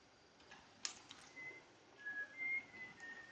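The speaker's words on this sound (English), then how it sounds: "There's whistling going on there on whatever rock that is." Faint, thin whistled notes drift in a slow melodic line over a quiet ambient background on a planet in the game Outer Wilds, with a few soft ticks near the start.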